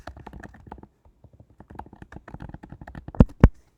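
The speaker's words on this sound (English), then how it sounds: "please try and type quieter than I did in the last one" Typing on a computer keyboard, rapid close key taps in uneven bursts with a brief pause, ending in two heavier, louder thumps, no voices.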